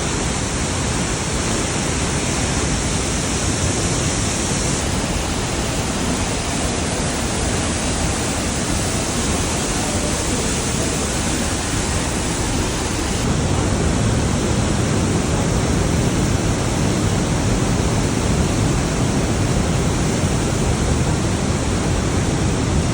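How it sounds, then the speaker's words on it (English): Fast-moving water rushes over rocks in a Swiss gorge, a loud, steady broadband roar that fills the whole stretch, swelling slightly louder partway through, with no voices. "So they're not really a waterfall, it's kind of in rocks, really fast moving water."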